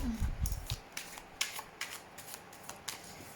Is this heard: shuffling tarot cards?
yes